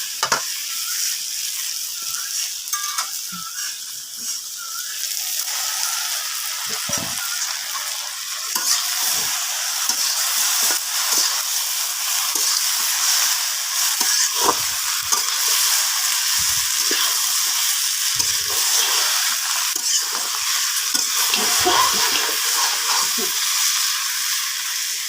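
Fish heads and pieces frying in a pan with oil for a home-cooked Pohela Boishakh meal, a steady loud sizzle running throughout with occasional stirring clatters and brief voices in the background.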